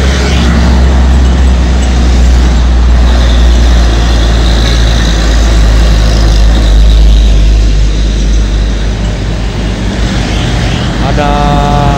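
A large truck's engine roars steadily, loud and close, as it labours up the steep Jayanti incline, a heavy low rumble holding throughout with some rattling near the end.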